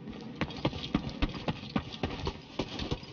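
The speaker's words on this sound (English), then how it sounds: "Did I just hear a scrapper?" A scrapper robot creature from The Cycle: Frontier skitters nearby, giving off a steady run of rhythmic clattering footfalls, like hooves on hard ground, over a low rumbling game background.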